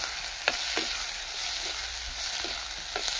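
Tamarind and greens sautéing in a pan for chutney, a soft continuous sizzle with a few light stirring clicks, close and moderately loud.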